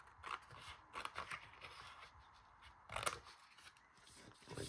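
Scissors snip through a sheet of 12x12 paper in a few quick, faint, close cuts, separated by short pauses and light rustling, with no talking.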